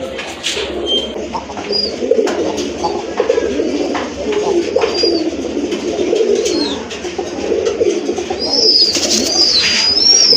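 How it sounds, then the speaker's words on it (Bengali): Rajgola pigeons at a pigeon sale in Gazipur coo in low, rolling phrases close by, with occasional higher chirps and faint background voices mixed in. "আরেক জোড়া রাজগোল্লা কবুতর কলসি গলা"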